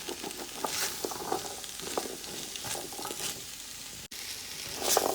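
Vegetables frying in a pan for fried rice, a steady soft sizzle with intermittent scraping and stirring clatters, close and fairly quiet.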